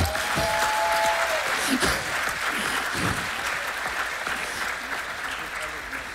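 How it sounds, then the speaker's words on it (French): Audience applause at a master class, loud dense clapping filling the room continuously, with voices faintly mixed in beneath. "on peut l'applaudir"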